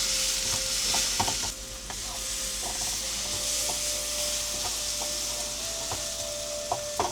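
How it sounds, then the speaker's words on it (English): Onion frying in a pan while being stirred, continuous sizzle under repeated scraping strokes of a utensil, close and steady with no talking. "I have to stir my onion after every 1 or 2 minutes."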